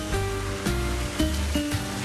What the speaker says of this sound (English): I've got water coming in over the tops of my doors.